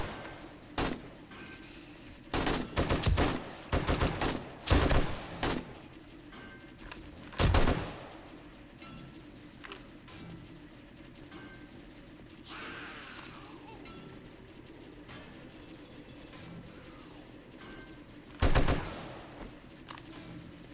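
Bursts of video game gunfire crack out in several loud volleys, spaced apart with quieter stretches between, during a trial raid on an underground hoard base, with a voice talking briefly.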